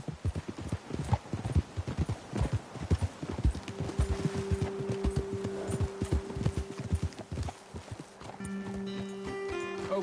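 Horse hooves clip-clop in a steady walking rhythm on a trail in the video game Red Dead Redemption 2, close and fairly loud throughout, with a low tonal hum joining partway through.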